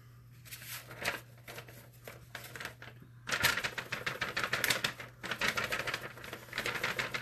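A glass ornament with a piece of paper held over the top is shaken, giving rapid rattling, ticking clatter in uneven bursts that grows louder and denser partway through.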